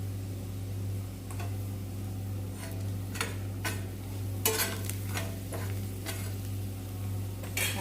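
Garlic and chili powder frying in a home kitchen pan sizzle steadily while a spoon scrapes and taps in irregular strokes, all over a constant low hum.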